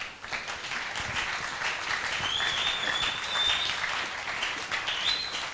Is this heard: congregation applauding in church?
yes